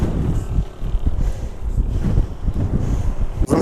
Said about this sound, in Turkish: Yani 50 km hızla bir esen rüzgar var.